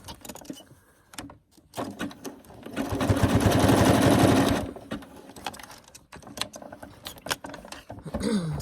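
A sewing machine runs in a steady fast stitching burst for about two seconds, framed by quieter handling clicks and rustles before and after.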